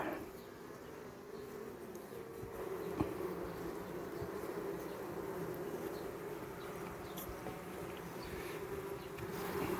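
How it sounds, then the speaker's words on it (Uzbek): Steady, dense buzzing of many honeybees close by around open hive frames, a continuous droning hum with no talking. "ana o arilarni qarang"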